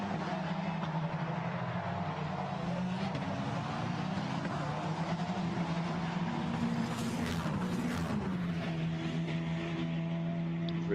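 Formula Renault Eurocup race cars exiting the Nürburgring chicane at Magny-Cours, engines droning and shifting pitch at a distance beneath steady commentary.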